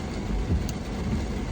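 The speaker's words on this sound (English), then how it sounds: "The rain is falling." Rain pouring steadily in Fort Lauderdale, a dense continuous wash with low rumbling underneath, fairly close and without talking.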